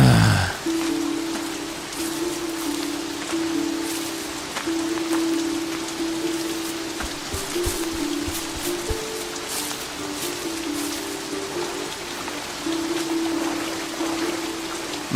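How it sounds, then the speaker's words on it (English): Steady rain pattering on leaves and the forest floor in the woods, a continuous close wash of drops with a low steady hum underneath and no talking. "Nothing's more inspiring than walking around in the woods while it's raining."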